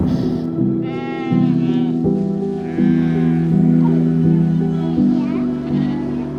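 Several domestic sheep bleat close by, their wavering cries overlapping one after another against a steady outdoor background.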